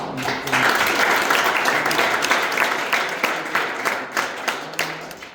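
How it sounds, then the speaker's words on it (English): An audience applauds at a blues championship event, steady dense clapping that carries on for several seconds and thins into scattered individual claps toward the end. "I think I want a big round of applause, for him as he has given us that."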